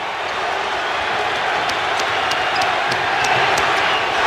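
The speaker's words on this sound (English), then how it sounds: "Crowd on its feet in unison now." A basketball arena crowd at an NBA Finals game between the Lakers and Pistons roars steadily on its feet, forming a dense, loud wall of cheering with scattered sharp claps and shouts throughout.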